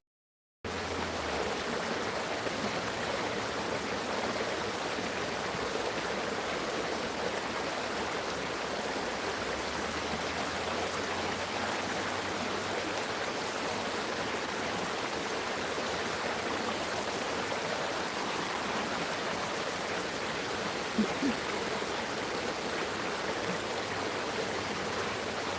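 McMillan Creek flows steadily nearby, a dense, even rush of water that fills the whole stretch without pause and with no voices.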